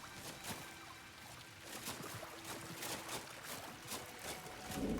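Steady rushing water from a waterfall in the fantasy video game Wardens of Avalon, a continuous broadband splash and trickle with small fluctuations, fairly close and on its own without talk.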